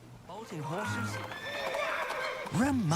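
A horse whinnies in the video game Vampire Rain: Altered Species on PS3, a rising and falling neigh near the start and again at the end, with faint hoof clip-clop under game sounds.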